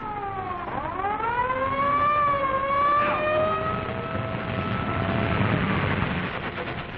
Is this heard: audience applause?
no